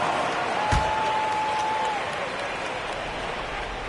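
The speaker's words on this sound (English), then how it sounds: "Give him a round of applause." In the NBA 2K23 basketball video game, arena crowd applause swells into a broad wash of clapping with a thump early on, then eases to a lower steady patter.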